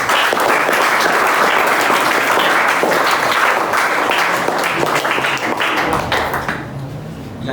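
An audience at an award distribution ceremony at AbhyaasIIT, Motihari claps loudly and densely for a class topper, a sustained roar of hands that thins and fades over the last second.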